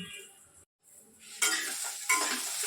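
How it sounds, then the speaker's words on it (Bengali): Eggplant slices frying in hot oil while being stirred, a bright crackling sizzle broken by a brief pause, then louder bursts of spitting oil and scraping from the stirring utensil, with no voices. "বেগুনগুলো এই গরম তেলে দিয়ে দেবো একটু নেড়ে চেড়ে"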